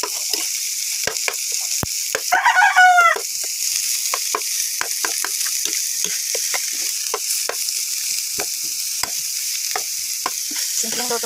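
Banana blossom frying in a hot pan, a steady bright sizzle throughout, with frequent sharp clicks and spatters of oil and a short squeaky scrape of stirring near the start.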